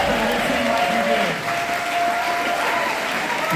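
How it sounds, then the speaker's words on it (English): Dense applause from a concert audience at an LP release show at Freight & Salvage, a steady wash of clapping that carries on throughout. "Give yourselves a round of applause."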